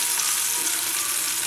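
Chopped tomatoes fry in a pan for a green bean bhaji as spices go in. A loud, close, steady hiss of sizzling oil runs unbroken throughout, with no voices.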